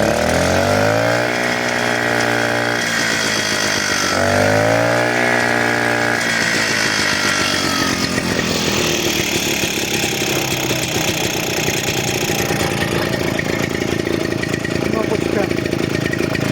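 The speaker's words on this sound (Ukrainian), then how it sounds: "Ось такий генератор." Generator engine running close by, loud and steady, with its pitch rising and falling twice in revving sweeps before settling into a rough, continuous drone.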